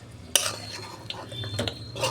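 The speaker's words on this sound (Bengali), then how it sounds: "দেখুন বন্ধুরা চিকেন কষাটা আমার হয়ে গেছে, আমি ঢেলে ফেলছি" Cooked chicken kosha is tipped out of a cooking pan, with a spoon scraping and clinking against the metal in short, close, quiet bursts. No one speaks.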